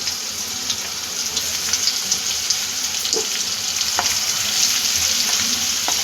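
Ground onion masala paste sautés in a pan with a steady, hissing sizzle, broken by occasional soft scrapes and taps of stirring, close and continuous.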